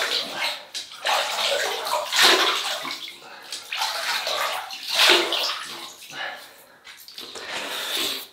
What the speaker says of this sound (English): So we'll start to wet the face, give it a good rinse, and then lather.